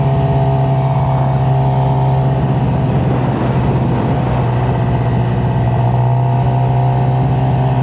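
A motorcycle engine hums steadily from a riding position, a constant droning tone with road and wind noise throughout, no talking.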